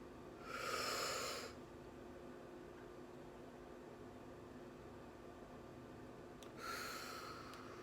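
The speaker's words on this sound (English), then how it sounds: "we're gonna breathe in and breathe out" A person breathing in and out deeply, two separate breaths several seconds apart with faint room hiss between them, close and fairly quiet.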